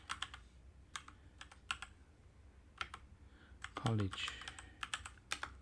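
Computer keyboard keys clicking in short bursts as a place name is typed into a photo-editing program's map search, close and fairly quiet, with brief speech and a mouse click partway through.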